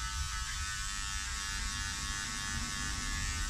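Electric hair clipper cutting hair during a number 3 haircut, a steady close buzzing hum that continues evenly without pauses, with no talking.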